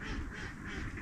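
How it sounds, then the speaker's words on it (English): A flock of ducks quacks faintly in the distance on public hunting land, a brief mixed chorus of mallards, pintails, wigeons, wood ducks and teal under steady wind noise. "300 mallards and pintails and widgeons, wood ducks, teal"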